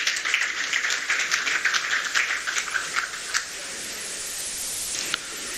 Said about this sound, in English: Please applaud for Nigeria.